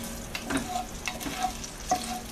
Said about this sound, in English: We're just going to fry up this bacon.